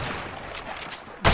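Gunfire from a shootout in the video game A Way Out: a dense stretch of shots ends in a sharp, loud burst, close and punchy.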